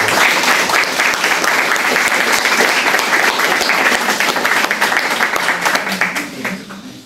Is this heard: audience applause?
yes